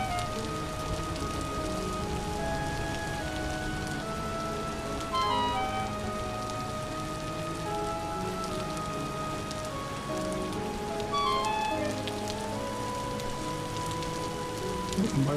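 Steady rain falls throughout in the survival game Vintage Story, a continuous wash of drops pattering on surfaces with faint in-game tones and chimes over it, no voices.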